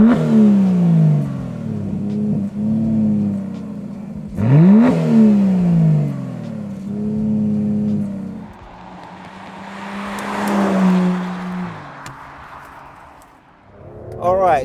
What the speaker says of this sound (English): You also have 4 exhausts, titanium on this car, providing a nice and reassuring exhaust note.